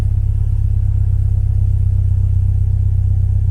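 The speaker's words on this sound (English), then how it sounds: "Just give the throttle a blip." A VW Beetle engine idles steadily and close by, with a low, even rumble that barely rises, so any throttle blip is slight.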